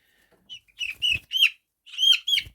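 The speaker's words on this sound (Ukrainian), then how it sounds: "отакі курчата" Week-old chicks chirp in a quick run of high, bright peeps, close and fairly quiet, with a short pause mid-way before a few more calls.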